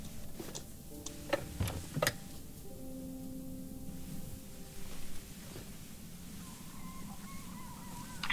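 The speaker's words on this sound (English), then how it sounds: "I heard like a clock ticking." Faint clock ticking in the video game Conway: Disappearance at Dahlia View, soft regular ticks under a quiet ambient room tone with a few sharper tonal blips and no talking.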